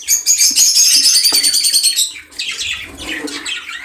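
Budgerigars in a breeding setup chirp and twitter rapidly and loudly up close, a busy flurry of high calls that dips briefly before resuming with softer chatter.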